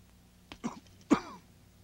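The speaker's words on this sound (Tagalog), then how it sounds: "Mataas ang lagnat nyo ah. At saka yung ubo ninyo." Two short coughs from a single person, the second louder, heard close and alone in a quiet indoor clinic scene.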